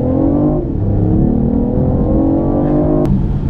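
A BMW i8 pulling away from a standstill, its engine note loud and close and rising steadily as it accelerates, with a brief sharp click near the end.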